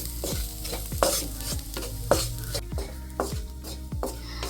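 Spice powders stirred in a pan over a low flame while cooking a milky mushroom roast: a spoon scrapes the pan in steady repeated strokes roughly once a second over a soft continuous sizzle, close and clear, with no talking.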